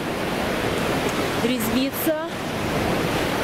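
Sea waves at the seaside on a hot day wash in as a steady broadband roar, loud and close, while a voice speaks briefly in the middle.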